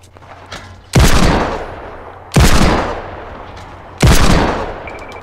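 Three loud gunshots in the video game Fortnite, each a sharp near blast with a decaying tail, spaced about 1.5 seconds apart over a faint background.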